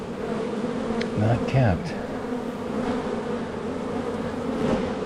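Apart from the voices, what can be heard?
honeybees buzzing during a hive inspection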